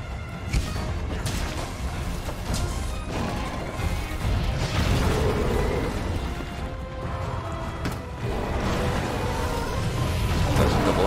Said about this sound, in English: There's a double explosion.